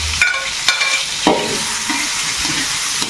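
Chopped shallots sizzle in hot oil in a pan for sambal kecap, a close, loud frying hiss with a few scraping stirs and clanks over it.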